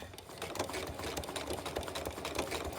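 A sewing machine runs steadily through a machine appliqué stitch on a Halloween Boo Crew quilt block, a close, continuous rapid whirring hum with fast regular stitching pulses and no talking.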